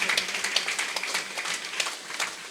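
Audience at the Mandapeta pyramid masters' meditation gathering clapping steadily, a dense, continuous round of applause from a crowd, moderately close throughout.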